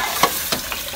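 Cumin seeds sizzle in hot cooking oil in a home kitchen, a steady close crackle with a few sharper pops over about a second, and no voices.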